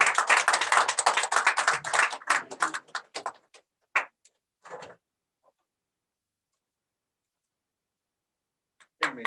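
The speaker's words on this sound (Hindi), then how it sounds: "तालियां बंद नहीं होनी चाहिए" Audience clapping at a Republic Day stage event, a dense burst of claps for the first two seconds that thins into a few scattered claps and taps, then near silence with one last clap at the end.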